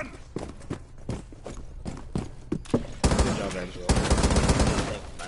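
Gunfire in the tactical shooter Rainbow Six: a run of sharp separate shots with a bit of movement noise between them, then a denser, louder burst of sustained fire toward the end.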